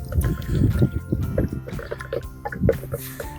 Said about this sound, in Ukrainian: У мене відміряний тут літр води. Спочатку наливаю трошечки, розвожу.